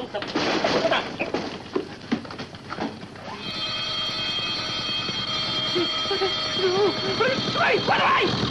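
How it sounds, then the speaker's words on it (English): A loud, steady electronic alarm tone starts partway through and holds under shouting voices and chaotic commotion, in a 1961 film scene of a near accident with an aircraft. "Sound the alarm!"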